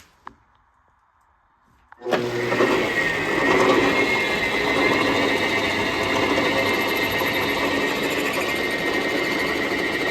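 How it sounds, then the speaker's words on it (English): A lathe spinning with a parting tool cutting a 6061 aluminum brake rod: after two seconds of near silence, a loud steady mechanical whir with a high whine starts abruptly and runs on without pause. "Now we bring the parting tool right to the edge here, and then I'll start spinning the lathe."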